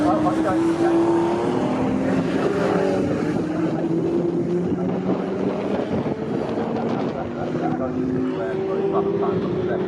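1970s race cars, including a Ford Escort, racing at Snetterton circuit, with several engines roaring and droning loudly and continuously at close range as their pitches rise and shift, under a commentator's talk.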